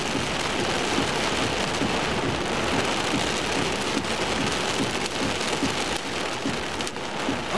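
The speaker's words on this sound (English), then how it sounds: "We got a big hailstorm going on here." Hail and heavy rain pound down during a severe thunderstorm, a dense, steady roar that stays loud throughout, peppered with sharp scattered impacts close by, with no voices.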